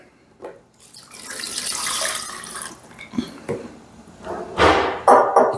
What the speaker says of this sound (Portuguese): a primeira coisa que a gente vai fazer é colocar água